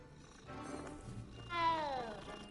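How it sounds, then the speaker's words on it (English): A cat meows in a Harry Potter video game, a drawn-out rising-and-falling cry near the middle over quiet game ambience and faint murmuring. "Damn cats everywhere."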